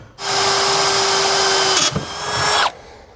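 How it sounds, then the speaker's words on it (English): A power drill with a 1/8 inch bit drilling pilot holes on a 2022 Jayco Jay Feather trailer whines steadily for about two seconds, dips briefly, then spins up again before cutting off, close and loud. "now we're going to come back with an 1/8 inch drill bit here and open up our holes"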